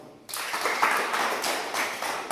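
Children's karate class applauding, a sudden burst of clapping that starts sharply and carries on steadily, close and fairly loud, with a few louder claps rising above the mass.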